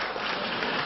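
Dense, steady applause from a large audience at the 90th anniversary commemoration of Gontor, a continuous close wash of hands clapping that fills the whole moment without pause.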